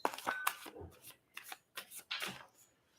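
Printed astrology cards shuffled by hand in short riffling bursts, several brisk flutters separated by brief pauses, quiet and close.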